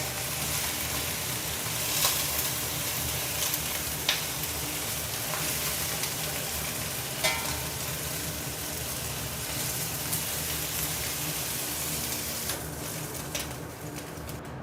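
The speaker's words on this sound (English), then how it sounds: "I'm cooking the prawns on medium heat, so it should take about a few minutes on each side to cook this" Prawns frying in a pan over medium heat, a steady soft sizzle and crackle filling the whole stretch with a few sharper pops, close and moderately quiet, no talking.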